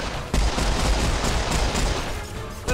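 Dense, rapid gunfire in the Serious Sam 4 video game, a continuous loud burst of overlapping shots lasting the whole moment with no talking.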